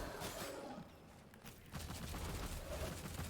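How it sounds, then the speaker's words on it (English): Enemies in Immortal: Unchained fire Viridian SMGs with drum magazines, loud sustained bursts of rapid gunfire that dip briefly and then return heavier, dense and close with no talking. "They're using what look like Viridian SMGs."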